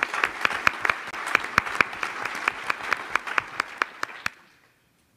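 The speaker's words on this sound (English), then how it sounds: "Let's give a round of applause for that." Audience applause at an Army senior leaders' town hall for a military family forum, a dense wash of clapping with a few sharp nearby claps standing out, tapering off and ending abruptly near the close.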